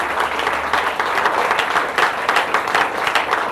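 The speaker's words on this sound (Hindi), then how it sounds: "फिर से एक बार जब ताली होनी चाहिए मेरे हस्बैंड के लिए" Audience applauding a woman's husband at a gathering, a steady, dense burst of clapping from a crowd that holds for several seconds without fading, with no voices rising above it.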